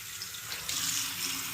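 Dirty water draining and splashing out of a Heil furnace heat exchanger during maintenance, a steady close rush of flowing liquid that swells slightly louder partway through.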